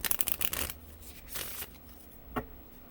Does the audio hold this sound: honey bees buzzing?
no